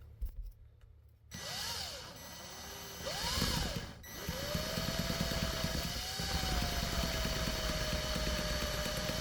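A sanding stick is held against a model kit tire spun in a power drill, giving a steady whirring grind that rises and falls in pitch as the drill spins up, with no talk over it.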